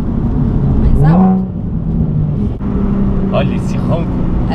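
A Nissan 370Z sports car exhaust rumbles deep and loud close by, while a person talks over it.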